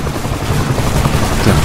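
A helicopter in the video game ISDefense makes a loud, steady rotor chop with a low, pulsing drone that continues throughout.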